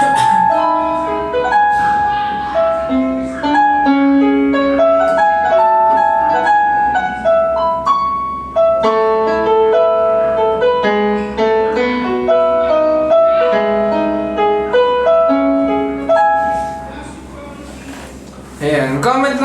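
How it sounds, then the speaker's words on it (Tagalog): Digital piano played in a tone demo, a melodic passage of sustained and overlapping notes with chords throughout, moderately loud and close, ending with a brief noisy burst near the end. "Ito yung tunog ng piano tone niya"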